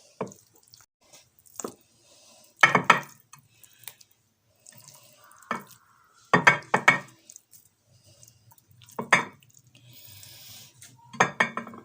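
Chicken pieces being tossed into a yogurt and spice marinade in a bowl for chicken tikka boti, giving sparse wet slaps, clinks and knocks against the bowl at irregular intervals with quiet gaps between.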